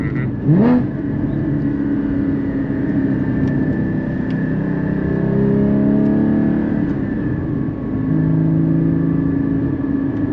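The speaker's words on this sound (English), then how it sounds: "Porsche has the best mechanical sounding motors" A Porsche GT3 sports car engine holds a steady, loud revving drone from inside the cabin, with a brief rise in pitch early on and a constant mechanical whir throughout.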